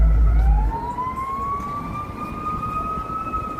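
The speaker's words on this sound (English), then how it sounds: "There's some sirens here." A loud emergency siren wails on Wacker Drive in Chicago, its tone sweeping slowly upward, over a low rumble of road traffic.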